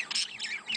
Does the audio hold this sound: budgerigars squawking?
yes